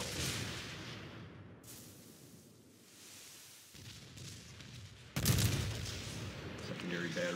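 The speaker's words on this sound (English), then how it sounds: "Secondary batteries opening up." Secondary battery guns of a New Mexico battleship firing in World of Warships, a dense rumbling barrage of overlapping booms at close range, swelling louder near the end.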